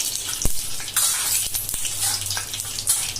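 Curry leaves crackle and sizzle in hot oil for a boiled egg bhurji, a steady hiss with a few sharp pops and spatters close by.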